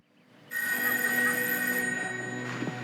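Old-fashioned telephone bell ringing in a 1988 Western film scene, a loud continuous metallic ring sustained for over two seconds, close and dominant with no talk over it.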